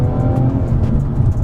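A BMW M240i accelerates hard with a loud, steady engine roar throughout, close and continuous with slight rises in pitch.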